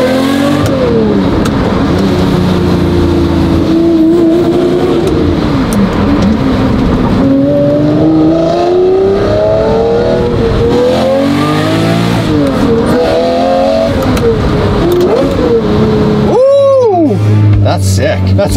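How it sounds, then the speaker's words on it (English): Lamborghini Murcielago with an old gated manual shifter, its engine howling loud and close as it revs and climbs through gears in repeated pulls, with talk over parts of it. "Listen to the sweet howl of the Murcielago."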